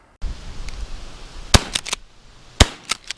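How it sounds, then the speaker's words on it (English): Two sharp, loud .410 shotgun blasts ring out about a second apart during an outdoor dove hunt over a field, each followed by quieter cracking echoes against steady background noise. "Took 2 shots, but I got him."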